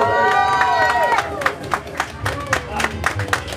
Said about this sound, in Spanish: Y ese aplauso bien fuerte.